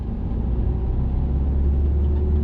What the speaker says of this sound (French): On va tout droit, on accélère.